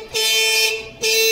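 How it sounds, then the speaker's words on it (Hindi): A Swaraj 724 tractor horn sounds two close, loud blasts, the first long and the second cut short, with a strained, wavering nasal tone and no talking. "कैसे रो रो के चल रहा है ये हॉर्न"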